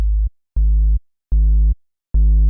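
Distorted sub bass synth notes with added harmonic overtones, four sustained tones in a steady repeating pattern, each cutting off cleanly into silence, loud and alone.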